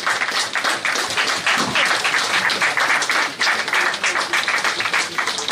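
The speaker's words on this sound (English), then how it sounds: "Can I have a round of applause," Applause from the audience at a book launch for a non-fiction thriller about the brigand Veerappan: dense, steady clapping from many people that carries on for several seconds, with a few voices in the room underneath.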